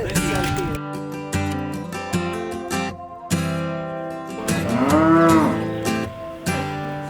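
Several beef cattle moo loudly and close by on a farm as carrots are dumped for grazing, long overlapping lowing calls with a rising, bending bellow near the end, over faint background noise.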